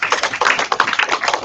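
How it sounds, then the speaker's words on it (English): An audience applauding at an International Day of the Girl Child event, with dense, loud, even clapping from many hands, close and continuous. "Another round of applause for Atim."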